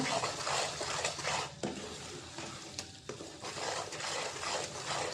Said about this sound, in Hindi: बेसन भी सूजी के साथ अच्छी तरह से फ्राई हो जाए। चम्मच आपने मुसलसल चलाते रहना है